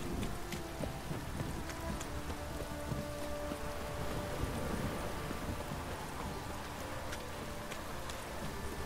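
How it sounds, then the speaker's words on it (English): Steady rain falls in The Witcher III: Wild Hunt, an even wash of patter lasting several seconds with faint scattered clicks and knocks mixed in, and no voices over it. "It's always raining."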